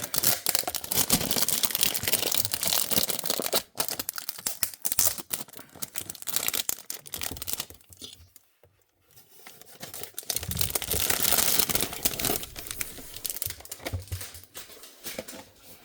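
Plastic wrapping crinkled and torn off an Xcartoys diecast off-road toy car, loud close crackling that runs almost continuously with a brief quiet gap in the middle.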